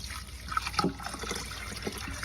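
Water trickles softly and steadily while dug-up plant roots soak to loosen the soil, faint and close with a few small splashes.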